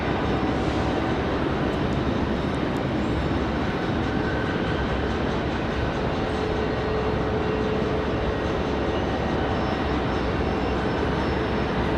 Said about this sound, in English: JetBlue 2184 at A220-300 getting ready for their departure.